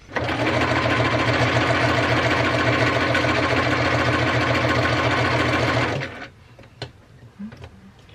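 A sewing machine runs steadily and loudly while stitching a calico dress, a continuous fast mechanical whir that stops abruptly after about six seconds, leaving faint clicks and handling noises.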